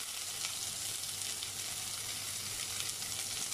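Mint, coriander and green chillies sautéing in hot oil for a Madurai-style beef biryani, a loud, dense, continuous sizzle with no pause.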